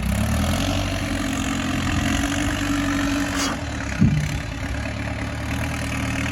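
A rubber-tired backhoe engine idles outdoors at a driveway and firebreak site, a steady low rumbling drone with one brief clank partway through and no talk.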